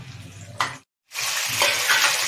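Sliced onions, green chilies and curry leaves frying in oil, with a loud close sizzle that cuts out for a moment and then returns strongly, mixed with stirring scrapes.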